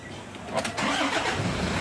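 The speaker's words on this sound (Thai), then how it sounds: "เดี๋ยวผมสตาร์ทรถให้ดูดีกว่า ฟังเสียงเครื่องยนต์" A 2017 Toyota Commuter van with a 3.0 D4D diesel engine cranks briefly, then fires and settles into a steady, close idle.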